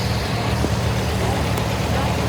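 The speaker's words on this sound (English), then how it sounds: "It's a Massey 245 with a loader." A 1979 Massey Ferguson 245 tractor with a loader rolls past in a steam and gas show parade, a loud steady diesel engine rumble under an announcer's voice.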